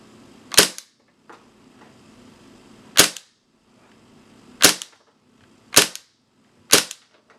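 A KWA MP7 gas airsoft gun fires five single shots, each a sharp, loud crack with quiet pauses of one to two seconds between them.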